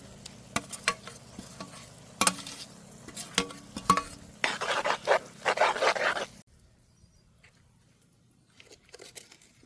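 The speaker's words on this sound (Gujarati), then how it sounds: "હવે આપણામાં નાખી દેવું ટમેટાની પેસ્ટ અને આદુ લસણ મરચાં" Tomato paste with ginger, garlic and chili hitting hot oil over cooked onions for a papad curry: sharp clinks and stirring scrapes, then a burst of crackling sizzle that cuts off into near silence, with a dog barking briefly.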